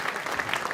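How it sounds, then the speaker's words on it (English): Audience applause at a comedy night, a brief burst of dense crowd clapping heard mid-stream, steady and fairly loud with no voices over it. "I just want people to clap for you."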